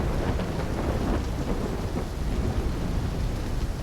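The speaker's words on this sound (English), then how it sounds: "trying to grab everything they can before the worst of the storm hits." A thunderstorm in Black Ops 3 roars steadily, with heavy rain and deep rumbling thunder filling the scene loudly and continuously and no voices heard.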